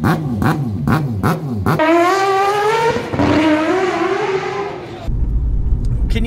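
Mazda Cosmo 20B three-rotor engine, peripheral ported and naturally aspirated, blipping in sharp repeated revs, then climbing in two long loud pulls with rising pitch before dropping to a rough idle; close and dominant.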